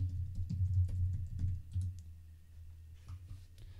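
Fingers type on a computer keyboard during a Rails coding session, a steady patter of soft, close key taps that thins out toward the end.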